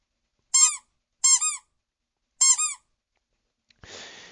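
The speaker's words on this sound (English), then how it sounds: "When you click on the icons, it sounds like a squeaky toy." Three short, bright squeaky-toy squeals from clicking icons in the Sprunki game, each a quick double squeak with pitch bending, separated by silence, followed by a brief hissy noise burst at the end.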